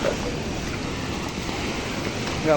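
Sea waves surge and crash onto the shore at Bharadkhol Koliwada, a fishing village coast, with water reaching the houses; a steady loud roar of surf with wind noise, swelling again at the end.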